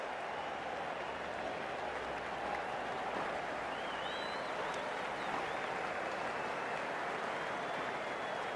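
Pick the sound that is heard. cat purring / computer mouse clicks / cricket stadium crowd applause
cricket stadium crowd applause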